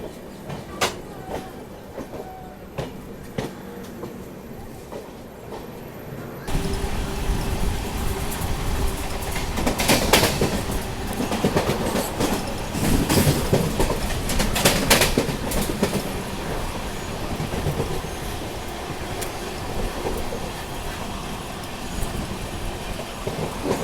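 Punjab Mail train on the Mumbai CST–Ferozepur run passing during a crossing outside Agra, heard from an adjacent train: quiet rumble first, then a loud sustained roar of rolling wagons with rhythmic wheel clatter for the rest.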